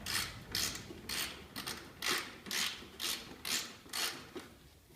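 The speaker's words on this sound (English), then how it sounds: "a 10mm socket with a ratchet" A 10mm socket ratchet turns out side panel screws on a Honda two-stroke bike, giving about nine evenly spaced ratcheting clicks close up and fairly quiet, with no talk.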